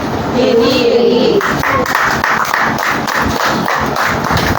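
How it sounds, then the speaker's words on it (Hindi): A church congregation claps together in a loud, rhythmic burst, the hands striking in steady repeated beats over a hall ambience, with a brief voice at the start before the clapping fills the space. "एली एली, ताली बजाएं।"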